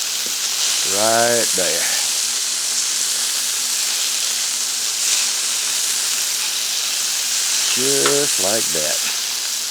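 Burger patties sear in a hot pan with a steady, close sizzle and frying hiss running throughout, while someone talks briefly near the start and again near the end.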